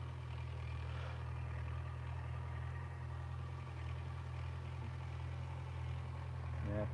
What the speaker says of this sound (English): neighbor is driving around with the tractor